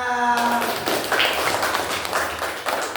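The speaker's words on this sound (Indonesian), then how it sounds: "Tepuk tangan buat semuanya" Classroom clapping from a group of pupils, a dense patter of many hands starting just after a teacher's voice fades and continuing steadily, fairly close and loud throughout.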